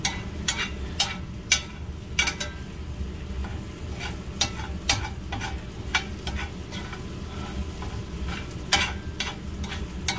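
Eggs sizzle steadily in a pan while a utensil stirs and scrapes them, with sharp scraping strokes recurring every second or so over the constant frying hiss.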